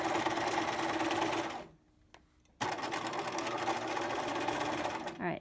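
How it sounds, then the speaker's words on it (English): A sewing machine backstitches and then sews a dart line during a garment alteration. Its fast, loud, steady whir stops for about a second, then starts again and runs on close by. "I'm just going to do a little backstitch and just sew right on that line"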